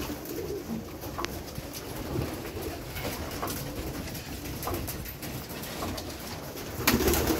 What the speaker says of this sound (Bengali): ভয়ে লাফালাফি করছে পায়রাগুলো।